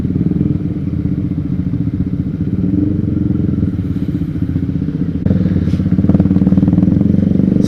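A Honda CB150R naked sport motorcycle runs close by with a loud rumbling, pulsing exhaust note that stays steady, then rises slightly in revs and clatter near the end; no one speaks.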